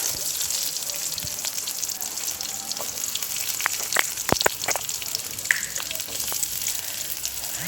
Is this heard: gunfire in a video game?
no